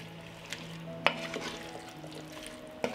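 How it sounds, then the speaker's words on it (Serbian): Chopped potatoes are stirred in a pot over a quiet cooking background, soft scraping with a couple of faint metallic knocks against the pot and no talk. "I krompir ću promešati."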